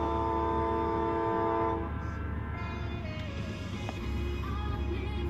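A CSX mixed freight train horn blares loudly for a couple of seconds, then the heavy rumble of the train rolling past a crossing continues steadily.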